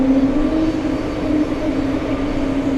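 An airplane at JFK airport gives off a loud, steady engine drone with a sustained tonal hum that holds for the whole stretch, with no voices over it.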